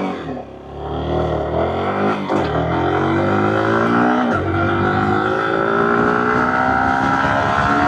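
Yamaha R15 V4 motorcycle accelerating hard in a 0 to 100 km/h test, its loud, close engine note climbing in pitch and dropping back at several gear changes.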